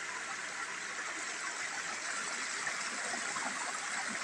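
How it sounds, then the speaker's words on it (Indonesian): Mountain spring water runs across a road in a steady, close rushing stream, a continuous broad wash with no pauses and no voices. "Nah, ini sumber air yang di perlintasan jalan ya."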